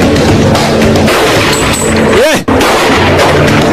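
Dense, loud bursts of film gunfire and explosive booms. A whooshing swell rises midway, then a sharp dropout before the barrage continues.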